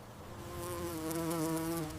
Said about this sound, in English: Another wasp may want this old house.